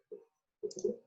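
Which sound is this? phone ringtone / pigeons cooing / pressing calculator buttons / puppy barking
pressing calculator buttons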